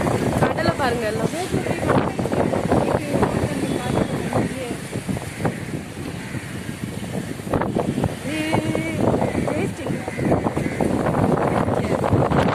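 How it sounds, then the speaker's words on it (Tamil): Strong gusty wind blowing by the sea, buffeting the microphone with a constant loud roar and rumble while a person talks over it. "பேய் காத்து அடிக்குது."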